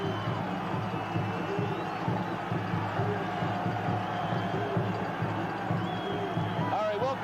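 A basketball arena crowd at a 1980 WVU versus Penn State college game cheers and roars steadily throughout, with a commentator talking over the noise.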